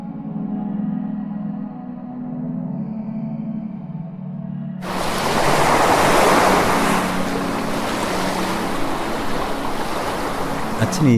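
Sea waves washing onto the shore, a loud, broad rushing surf that begins abruptly partway through after a quieter, humming opening and continues close and steady to the end.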